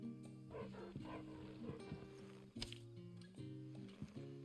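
A dog barks repeatedly in the video game Final Fantasy XVI, sharp yaps over a steady game soundtrack, fairly close and clear.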